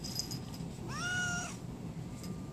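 A single clear cat meow rises and holds for about half a second, close and moderately loud, with quiet room background before and after.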